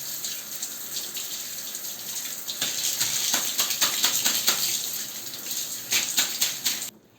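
Running tap water splashes steadily while a toilet brush is washed under it, with irregular louder gushes and spatters as the brush moves through the stream, close by and continuous.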